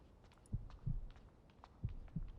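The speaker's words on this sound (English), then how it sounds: "Heartbeats." Heartbeat effect from the video game Girls' Frontline 2: Exilium: two slow, muffled double thumps, each a low lub-dub pair, faint against a quiet background.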